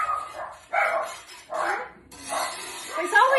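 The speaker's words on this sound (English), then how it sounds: "Just sets off my dogs." Several household dogs bark in short, repeated bursts, fairly close and somewhat muffled, with brief gaps between the barks.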